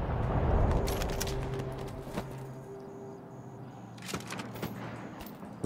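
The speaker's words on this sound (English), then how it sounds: "There are still your gunshots, damn it." Scattered gunshots in Stalker 2: Heart of Chornobyl crack out intermittently, some sharp and close, others further off, against quiet ambience, with a loud shot at the very end.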